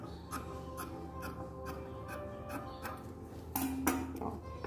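Linen fabric being cut for the inside of an MDF box, a series of soft, close snipping and ticking sounds at a steady pace, with one louder, brighter cut near the end.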